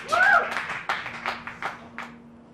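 A family claps and cheers in a room, a short burst of applause with overlapping voices that thins out over a couple of seconds.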